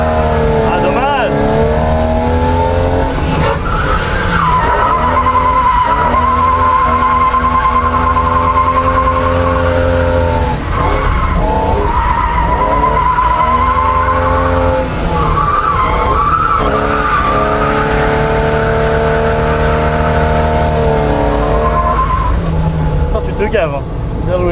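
A drifting car's tires skid and squeal almost continuously, rising and falling in pitch over a steady engine roar, with people talking over the noise.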